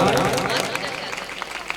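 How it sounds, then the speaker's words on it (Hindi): An audience claps loudly and continuously after a devotional Saraswati Vandana performance at a cultural program, dense applause filling the space with crowd noise mixed in. "जोरदार तालियां"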